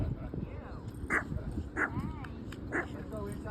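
Dog whimpering with short barks at a dog park, several sharp yelps standing out over a busy bed of background chatter and other people talking.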